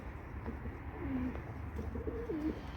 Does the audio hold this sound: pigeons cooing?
yes